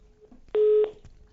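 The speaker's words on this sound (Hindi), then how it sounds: "संजय जी का फोन कट गया है, लेकिन आप भी अपनी बात रख सकते हैं।" Telephone tones on a live TV call-in after a caller's line drops, a single steady electronic beep of about a third of a second over a faint line hum, with quieter clicks around it.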